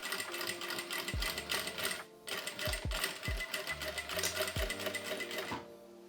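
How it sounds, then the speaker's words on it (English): A sewing machine stitches ties into the bottoms of a homemade bikini swimsuit, running in steady bursts with several short pauses and low thumps between runs. "Now insert the ties into the bottoms and secure them with stitches."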